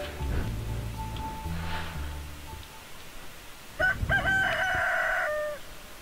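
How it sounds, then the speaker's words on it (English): Rooster crowing in the morning in the farming video game Stardew Valley, one loud cartoonish cock-a-doodle-doo near the end, following soft game music tones. "And the stereotypical rooster crows in the morning."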